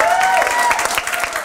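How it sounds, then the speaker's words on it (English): A trivia game show studio audience breaks into brisk, loud applause, many hands clapping at once with a brief cheer rising over the top. "Give her a round of applause."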